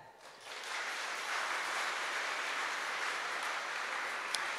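Audience applause at a science ministry award ceremony, a steady broad wash of many hands clapping from a large room, sustained and even throughout with no voices over it.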